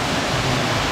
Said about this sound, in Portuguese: Encontramos mais uma cascata.